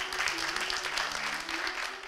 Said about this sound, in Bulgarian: Аплодисменти за нея!